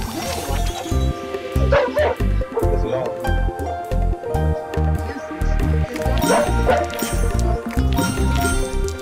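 Dogs barking repeatedly in a rapid, loud, rhythmic burst of yips and woofs, layered with voices and other noise.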